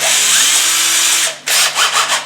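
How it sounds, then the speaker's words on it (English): A power drill whirs loudly and steadily as it bores through a wooden cabinet door, then stops and restarts in a few short bursts near the end. "I drilled all the way through the cabinet door."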